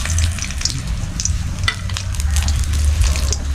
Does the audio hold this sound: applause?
no